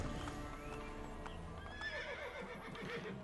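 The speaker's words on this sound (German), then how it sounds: "Ich wollte Pferd nicht rufen" A horse in Assassin's Creed Brotherhood clip-clops at pace and lets out a shrill neigh, hooves and whinny fairly faint in the game's soundscape, with no speech.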